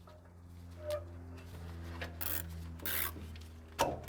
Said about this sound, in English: Grab a couple of cable ties, we've connected them end on end for a bit of extra length